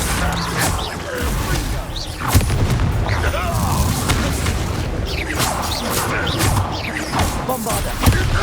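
Bombarda blasting spell in Hogwarts Legacy on PS5, a sharp booming explosion followed by crashing debris and rumbling impacts, dense and loud, with voices talking amid the noise.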